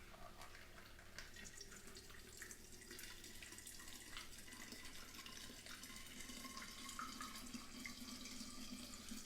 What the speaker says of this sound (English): pour a little bit of that water in here.